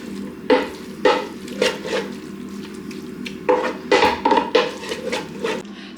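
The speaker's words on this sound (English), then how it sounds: "And then just give it a stir" A minced beef and noodle mixture is stirred in a pot, giving repeated scraping, wet stirring strokes in bursts close by, with a faint sizzle underneath and no talking.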